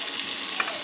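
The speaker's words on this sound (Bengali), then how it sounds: "পটল আর আলু একসঙ্গে ভেজে নেব" Potatoes and pointed gourd frying together in a pan, a brief continuous sizzle with a faint tap near the middle.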